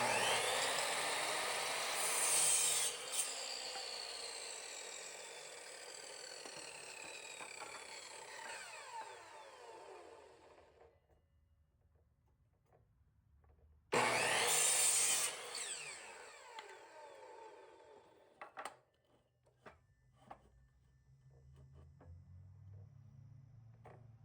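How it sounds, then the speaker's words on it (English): A chop saw cuts wooden boards for a garden raised bed panel in a workshop: a loud, close, sustained whining cut for several seconds, a pause, then a second brief cut, followed by scattered knocks and handling of the wood. "I use my chop saw to cut 2 long boards and 2 short boards that's going to make up the panel."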